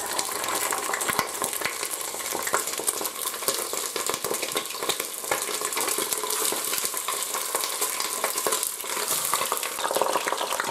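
Chicken pieces frying in hot oil in a pot, a steady, close crackling sizzle with dense popping that runs unbroken throughout.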